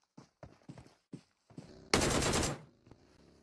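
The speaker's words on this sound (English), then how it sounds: "We're only seeing a few shots hit at the moment, but Pika now still looking to try and get s" Gunfire in a PUBG Mobile match on the Erangel map: several separate sharp shots, then a dense, loud burst of rapid automatic fire lasting about half a second, followed by faint, quieter sounds.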